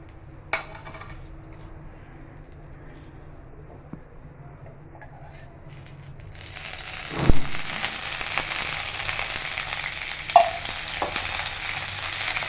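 Chilies for coconut chutney fry in a pan, starting as a faint low sizzle that swells into a louder, steady crackle partway through, with occasional sharp utensil clinks against the pan.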